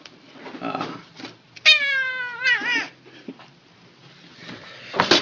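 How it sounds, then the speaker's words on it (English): A pet cat meows close by, one clear drawn-out cry in the middle with softer mews before and a short sound near the end, while a person speaks quietly in between. "This is my cat Rufo."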